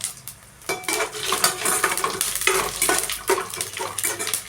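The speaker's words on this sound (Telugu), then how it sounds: "జీలకర్ర, తెల్లగడ్డలు వేసుకొని ఫ్రై చేసుకున్నాం." Cumin and garlic frying in a pan, with soft sizzling under repeated scraping and clinking of a spoon stirring against the metal, close and irregular.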